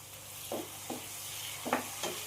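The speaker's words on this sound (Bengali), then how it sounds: "দিয়ে একটুখানি আমি ভেজে নেব টমেটোটা।" Soft sizzling in a pan as chopped tomato fries with ginger, garlic and green chilli, faint and close, with a few brief stirring scrapes over a low steady hiss.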